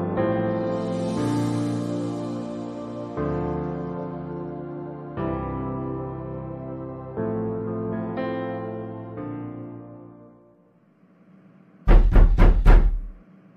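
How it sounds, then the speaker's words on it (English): Someone knocks on a door at night: a quick burst of four or five sharp, loud raps near the end, following a sustained musical passage that fades away. "Who is knocking at this middle of the night?"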